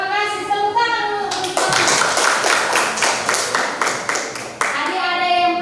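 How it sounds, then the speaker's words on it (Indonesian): A school class clapping hands in a lesson, a burst of loud rhythmic, fairly synchronized claps at a steady beat, with a voice speaking just before and after. "Tepuk tangan dulu."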